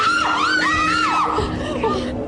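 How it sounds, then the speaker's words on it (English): A person screams in fright during a nighttime ghost-hunting session at Chillingham Castle, a loud, high, wavering shriek that rises and falls over about two seconds, near and raw. "I jumped up and screamed"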